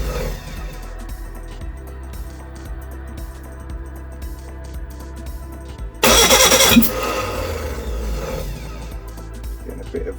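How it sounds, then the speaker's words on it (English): A Reliant Regal Supervan engine cranks and fires, with a rough uneven idle and a sudden loud burst around the middle as it backfires through the carburettor, close and harsh. "Getting a bit of backfire out of this carb."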